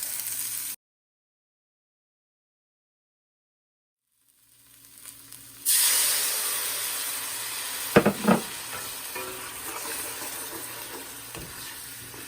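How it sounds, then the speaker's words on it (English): Onions hit hot vegetable oil in a wok after a silent gap, setting off a sudden steady sizzle that fades slowly, with a couple of clunks from the pan partway through and no talk. "Okay, so now I'm gonna saute the onions. A little bit of vegetable oil in the wok."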